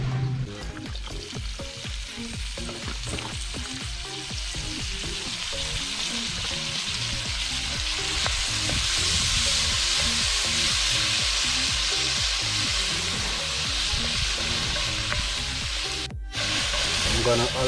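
Chicken sautéing in a one-pot meat dish, cooked outdoors in Jamaica, gives a loud, steady sizzle with occasional stirring scrapes that runs unbroken for the whole stretch.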